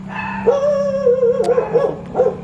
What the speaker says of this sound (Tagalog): Naiingayin tayo ng aso.